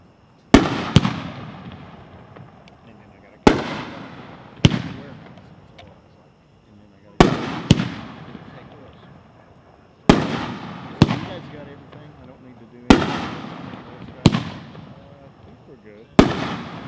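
An Eye Candy 12-shot firework cake fires at a fireworks convention demo, with twelve loud sharp booms in uneven pairs and singles, each followed by a short ringing decay, some faint talk in between.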